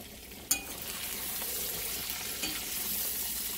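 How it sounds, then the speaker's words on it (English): Meatballs browning in a frying pan give a low, even sizzle throughout, with one sharp metallic clink near the start and a softer tap later. "My meatballs are browning nicely"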